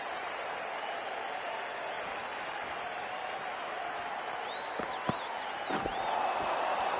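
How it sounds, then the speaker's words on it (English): Crowd noise at a Big Bash cricket match between Melbourne Renegades and Perth Scorchers, a steady broad roar of the stadium with faint applause and a few whistles rising near the end. "the excitement emanating from this crowd at the moment"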